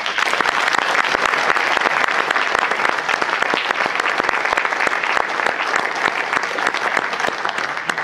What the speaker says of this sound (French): Et je voudrais qu'on les applaudisse.